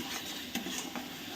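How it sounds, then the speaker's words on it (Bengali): A spice paste with salt, a little sugar and chilli powder is stir-fried in a pan. It gives a soft, steady sizzle with a few faint scraping strokes of a spoon, quiet and close, with no talking. "এবার আমি মশলাটাকে ভালো করে কষিয়ে নেবো আবারও।"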